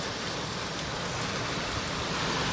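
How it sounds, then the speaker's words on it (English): Dense, steady pelting of falling hail and rain in rural South Africa, a constant loud hiss of impacts with no pauses. "Wow, a hailstorm."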